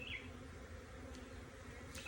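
Honey bees buzz around a Flow Hive during a nuc installation, a faint, continuous low hum with a few individual bees droning close to the microphone.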